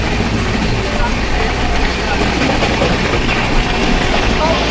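The Triveni Express rolls into Khatima railway station, a loud, continuous rumble of the train with a broad steady roar and faint rhythmic rail clatter throughout.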